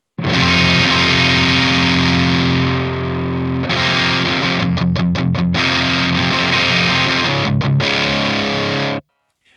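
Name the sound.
crunchy distorted electric guitar amp tone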